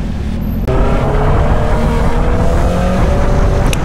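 Engine of a Honda CBR650R big bike heard while riding, a loud steady drone with a rising tonal whine throughout, wind rush mixed in, continuous and close.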